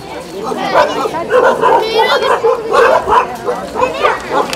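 Several dogs bark and yip in rapid, overlapping bursts close by at Swayambhu, an agitated chorus that keeps going without pause.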